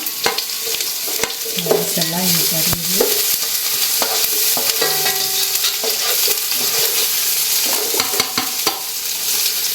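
Chopped onion stir-fried in a hot pan: a loud, continuous sizzle broken by repeated scraping and clinking of a spatula against the metal, with brief squeaky tones partway through.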